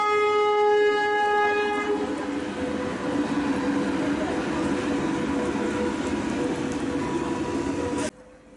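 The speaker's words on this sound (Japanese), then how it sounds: "今回乗車する貨物列車40127列車がやってきました。" A freight train hauled by an SS4 locomotive with over twenty wagons rolls into a station in Fujian, China, with a steady rumble and clatter, its horn sounding at first, then continuing loud and close before cutting off.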